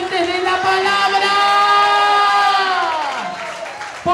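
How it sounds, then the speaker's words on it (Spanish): A church congregation cheers and shouts in a large room, with a loud sustained whooping tone over scattered clapping that fades toward the end. "Alguien aplauda, chifle, grite"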